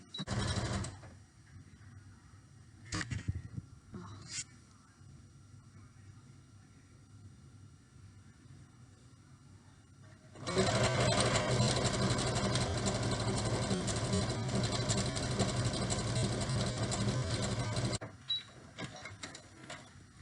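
Sewing machine running a zigzag stitch on a fabric face mask, a quiet stretch with a few clicks and handling noises, then a loud steady mechanical chatter for several seconds before it stops, close by and with no talking.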